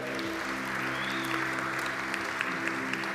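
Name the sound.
congregation applauding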